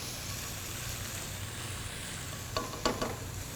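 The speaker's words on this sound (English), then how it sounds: "And you can hear that sizzle, right?" Finely minced shallots sizzle steadily in hot olive oil in a pan, a soft continuous frying hiss with a few brief clinks of a utensil near the end.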